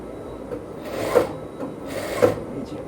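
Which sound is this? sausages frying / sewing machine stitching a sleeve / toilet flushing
sewing machine stitching a sleeve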